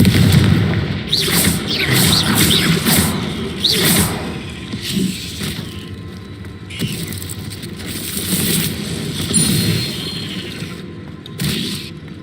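Confringo, the explosive fire spell in Hogwarts Legacy, sounds as a run of loud clattering bursts and crackling booms, busiest early on, then sporadic sharp hits and mechanical rattles with quieter gaps between.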